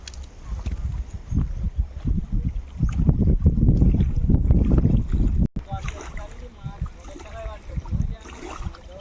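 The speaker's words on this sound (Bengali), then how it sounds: "আমাদের সামনে দেখুন আরও একটা নৌকা ওরাও কিন্তু যাচ্ছে" A boat moves along a river in the Sundarbans, with a rumbling low churn and splashing. Wind buffets the microphone and people talk faintly in the background.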